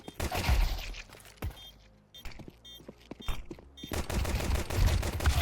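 Gunfire from the video game CS:GO rings out in bursts of rapid shots, then quieter scattered pops and footsteps, then another dense burst of shooting.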